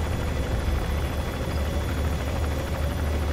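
A helicopter in the video game Metal Gear Solid V: The Phantom Pain, a steady loud rotor and engine drone that holds evenly through the whole stretch with no other sounds on top.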